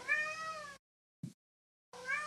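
A domestic cat meows twice, two clear separate cries about a second long with a silent gap between them. A brief soft thump falls in the gap. The cat is close and distinct, with no speech.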